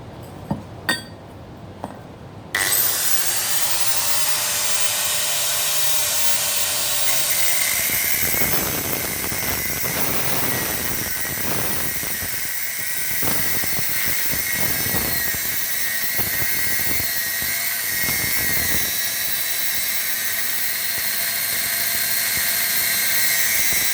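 A power tool grinds through a damaged wheel bolt nut, a loud, continuous high-pitched whine that begins abruptly after a few faint clicks and holds steady with slight rises and dips.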